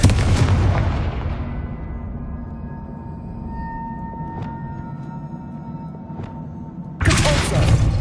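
A Confringo fire spell blast in the video game Hogwarts Legacy: a loud booming explosion that dies away into a long rumble, with a couple of faint crackles and a second burst near the end.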